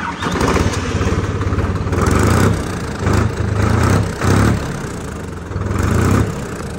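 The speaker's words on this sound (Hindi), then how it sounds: "एक बार मैं थोड़ा साउंड वगैरह ट्रैक्टर चला के आपको थोड़ा दिखाता हूँ।" A 2024 Sonalika Tiger DI 745 tractor engine runs loud and close, a steady rumbling idle that swells with a few revs, with no talking.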